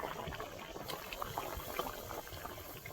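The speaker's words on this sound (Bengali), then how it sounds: "এই দেখুন, তরকারি ফুটছে" A pot of potato and poppy-seed curry simmers on the stove with soft, continuous bubbling and small pops, close by and quiet, with no voices.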